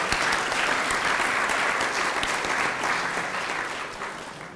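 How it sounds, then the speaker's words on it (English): A hall of fame induction ceremony audience applauds the event's organisers, a full, even round of clapping throughout a hall that slowly tapers off toward the end. "Please give them a round of applause."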